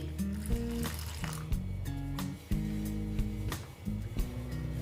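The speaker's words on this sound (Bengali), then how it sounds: "আমি জল দিয়ে দিচ্ছি" Water is poured into a paste of flattened rice with turmeric and cumin, giving soft wet squishing and trickling sounds close by, fairly quiet with a few sharper taps.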